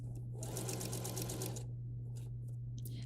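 A sewing machine stitches a child's shirt with a fast, steady mechanical whir over a constant low motor hum, the needle rattle surging and pausing in short runs, close and clear with no speech.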